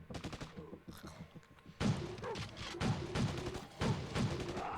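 Turrets in State of Survival fire in a thumping series of shots, a first softer cluster giving way to louder booming rounds that repeat about once a second.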